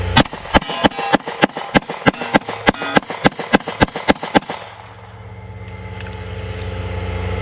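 Palmetto State Armory Micro Dagger pistol fired with aluminum baseplates: about sixteen sharp, loud shots in a rapid, even string over four seconds, then a low rumbling steady background.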